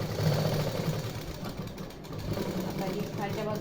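A sewing machine stitches a garment neckline, a steady close mechanical whirr and rapid needle chatter running throughout, with a voice talking softly over it.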